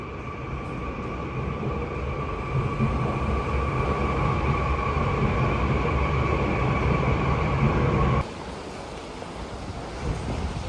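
A Korean subway train rumbles along with a steady low roar and a high whine, then the noise drops sharply as it slows or changes track.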